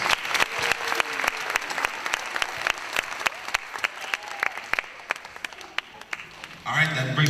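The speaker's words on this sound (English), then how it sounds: "So one more round of applause for those students." An audience at a student gala celebration applauds: dense, steady clapping fills the room for several seconds before fading out near the end, where a brief murmur of voices is heard.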